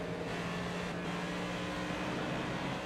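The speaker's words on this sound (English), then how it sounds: "Listen to the throttle control in his car, too." A race car engine in NASCAR 25 drones steadily at high revs under throttle, a dense, constant roar with little variation, loud and close.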